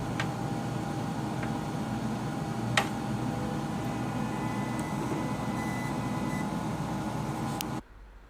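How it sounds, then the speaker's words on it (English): A syringe pump homing itself whirs steadily at low volume with a faint hum, a couple of small clicks, then stops abruptly near the end. "The syringe pump will home itself and sound like this."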